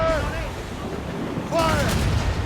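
Ship cannons firing in Assassin's Creed Rogue: two deep rumbling booms with a wash of noise, under voices calling out.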